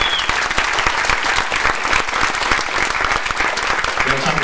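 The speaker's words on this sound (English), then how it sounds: "Let's give him a round of applause." A Q&A event audience on a cruise gives a loud, sustained round of applause, with thick continuous clapping from a close, crowded room for several seconds.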